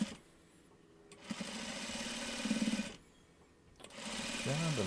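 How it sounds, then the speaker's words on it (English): Sewing machine stitching quilt half square triangles, running in two sustained loud buzzing bursts separated by a short pause, with a steady motor hum throughout. "Trying not to sew my finger."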